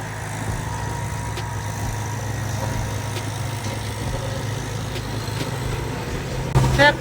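A tractor engine runs in a muddy field with a steady, low idling drone throughout, moderately loud and close, with a brief louder burst near the end.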